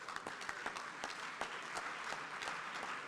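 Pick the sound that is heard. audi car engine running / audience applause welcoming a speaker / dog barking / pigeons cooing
audience applause welcoming a speaker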